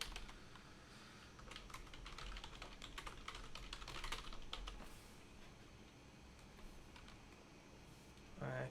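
Quiet clicking of a computer keyboard as a tweet is typed, a steady patter of keystrokes in a still room, faint and close.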